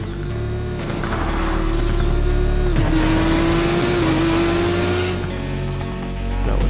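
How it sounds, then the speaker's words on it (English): Race car in Need for Speed Payback double downshifting into an S-bend corner, a loud sustained engine roar with two sharp rev blips as gears drop, then steady power through the turn, no voices. "coming up to the S turn, you're going to double shift, which is basically shifting twice"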